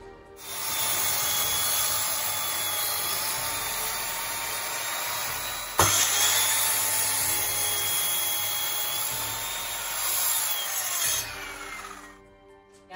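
A power saw whines steadily through a wooden post for several seconds, its pitch dipping briefly midway before the cut ends and the motor winds down.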